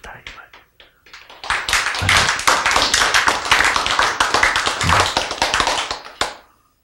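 Audience in a Korean health lecture on diet bursts into sustained applause, a dense wash of many hands clapping for several seconds, preceded by a few scattered claps and ending abruptly.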